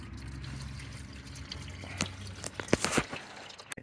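Engine oil drains from the plug of a Ford Escape as a soft, steady trickle and pour, faint and close, with a few louder splashes and clanks near the end.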